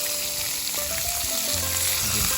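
Lobster tails sizzle in butter inside a brick oven, a steady close frying hiss with faint popping throughout, no voices over it.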